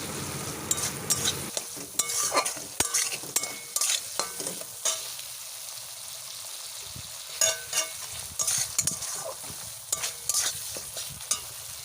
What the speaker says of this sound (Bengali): আদা জিরে ধনে আর এলাচের বাটনাটা বাটনাটা দিয়ে ভালো করে কষিয়ে নিচ্ছি বেশ কিছুক্ষণ কষাবো